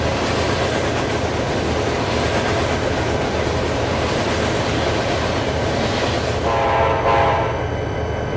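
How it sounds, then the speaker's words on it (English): A train rumbles steadily past, loud and close, with a continuous roar and a brief horn-like tone near the end. "It means we need to let another train pass."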